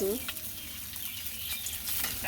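Fish fries in hot oil in a home kitchen pan, giving a steady, dense sizzle with a brief stir or scrape at the start and constant close crackle throughout.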